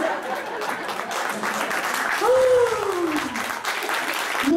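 A crowd at a live comedy show in Boulogne's Faïencerie claps steadily and loudly, and a voice rises through the middle of the applause.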